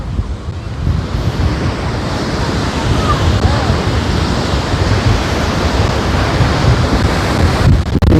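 Strong wind and large ocean waves at Dhanushkodi beach make a loud, continuous roar of surf and buffeting wind across the microphone, steady throughout with no talk.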